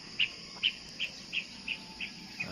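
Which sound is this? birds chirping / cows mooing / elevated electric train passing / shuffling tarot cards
birds chirping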